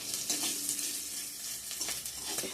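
Dried fish fries in a pan with onion, garlic, green chilli, bay leaf, dried red chilli and five-spice, giving a steady, fairly soft hiss and sizzle broken by brief stirring scrapes.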